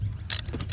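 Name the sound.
tightening a bolt by hand on Audi Q7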